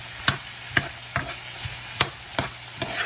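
Chili and spices for taco filling stir-fried in a pan, with regular spatula scrapes and clanks roughly every half second over a steady low sizzle, close and alone without any talk.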